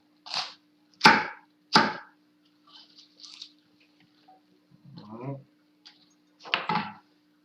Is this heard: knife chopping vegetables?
yes